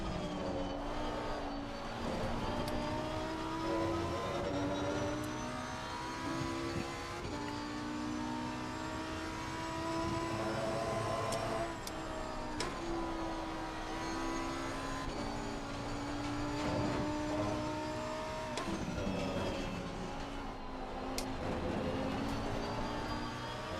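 Lamborghini GT3 race car screaming around the Kyalami circuit in a racing video game, a loud high-revving engine wail climbing and dropping through repeated gear changes, close and sustained with no talk.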